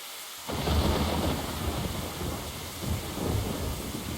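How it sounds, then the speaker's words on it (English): Thunder in the Lamento -Beyond The Void- video game rolls in a long, loud rumble over steady rain. The deep roar swells and lingers for several seconds with no voices. "Thunder rent the sky open."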